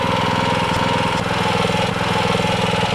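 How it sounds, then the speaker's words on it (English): A rototiller fitted with a new motor runs continuously in a garden bed, a loud, close, steady chugging engine drone with a rapid regular pulse and no pauses or speech. "Alright, Tom's going to rototill this. And our rototiller needed a new motor."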